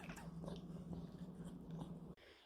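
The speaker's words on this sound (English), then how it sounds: "I am chilling with my dog today," Soft whimpering and faint mouthing sounds from a pet dog in a living room, close and low, running steadily before a brief pause near the end.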